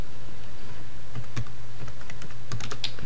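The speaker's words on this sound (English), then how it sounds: "We would then type in the customer details." Customer details are typed on a computer keyboard in a quick burst of close, crisp keystrokes over a low steady hum.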